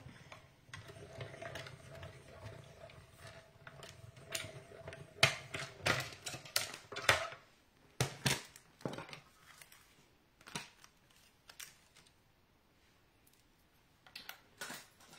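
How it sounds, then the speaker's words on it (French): Paper foliage is cut out by hand for a 3D card: close, soft snips and crisp clicks of cutting come in irregular bursts, with quiet pauses and brief rustles between them. "Et puis là, je vais venir découper un peu de feuillage."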